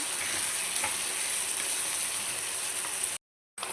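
Spiced raw mango mixture for a Tamil Nadu-style jaggery pickle being stirred in a pan, a steady close hissing sizzle that runs unbroken before a brief silent gap near the end.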